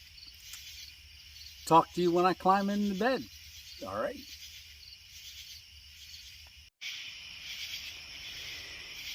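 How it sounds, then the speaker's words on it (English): Crickets chirp steadily through a quiet night beside a car pulled over for camping, a continuous high trill that runs throughout, with a voice speaking briefly over it before the chorus carries on alone. "I'm going to hang out here, listen to the crickets"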